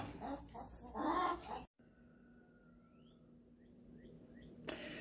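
Backyard homestead chickens cluck close by, a busy burst of clucking under a voice at the start, then a quieter stretch of scattered, softer clucks and chirps.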